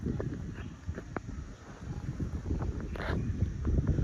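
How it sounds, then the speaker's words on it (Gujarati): Steady wind rushing and buffeting a microphone outdoors, a low continuous roar with a few faint knocks and no voices. "મસ્ત મજાનો પવન આવે છે"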